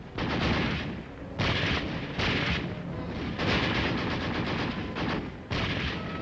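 Heavy artillery and gunfire during Korean War street fighting in the burning city of Taejon: loud, dense bursts of blasts and rattling fire, coming in repeated waves with brief lulls between them and no voices.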